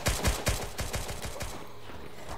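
Rapid gunfire from a zombie video game: a quick run of sharp, loud shots in the first half, thinning into a few scattered bursts and then a lull, with no talk over it.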